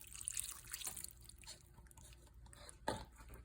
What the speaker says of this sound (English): I'm gonna just pour the water on top of everything.